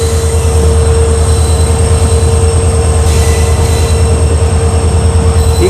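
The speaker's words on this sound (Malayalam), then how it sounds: "ട്രെയിൻ ഇപ്പോൾ കബകപുത്തൂർ റെയിൽവേ സ്റ്റേഷനിലേക്ക് എത്തിയിരിക്കുകയാണ്." Diesel train pulling into Kabakaputtur railway station, a loud continuous rumble of wheels and carriages with a steady high whine and faint squeal, no voices.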